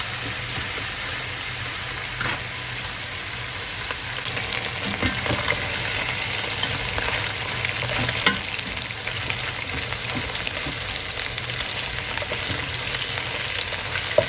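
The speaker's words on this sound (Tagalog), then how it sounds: "Kailangan kasi siya ma-prito ng ayos para hindi siya malansa." Steady, close sizzling of duck frying in a pan, with occasional pops and stirring sounds over a constant crackle.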